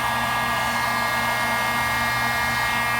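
Heat tool melting dry cleaning bag plastic, a loud steady blowing whoosh with a constant hum, close and uninterrupted throughout.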